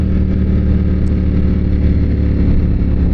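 Ducati Panigale V4S sport bike engine while riding, a loud, steady low-pitched drone with a constant rumble throughout and no audible talk.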